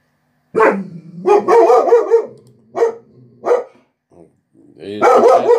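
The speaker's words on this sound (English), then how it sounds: "He's got his Shiva barking again." A dog lets out a handful of loud, close barks, some in quick pairs with short gaps between, in a quiet indoor setting.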